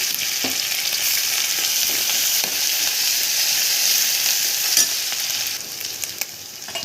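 Onion frying in hot oil with coarsely crushed garlic, ginger and cumin for dal palak, a steady loud sizzle filling the whole stretch, with a few stirring scrapes and clicks.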